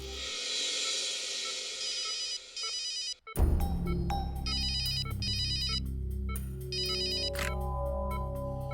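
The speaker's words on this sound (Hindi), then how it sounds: "डॉक्टर तारिका को फोन कर देता हूं।" A telephone rings during an outgoing call in the Hindi crime drama CID, with repeated electronic ring bursts in regular cycles over a low, sustained background score.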